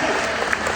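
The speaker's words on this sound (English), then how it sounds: "you can clap." Comic Con audience clapping in a large hall, a dense steady wash of applause from many hands with faint crowd murmur, brief and loud.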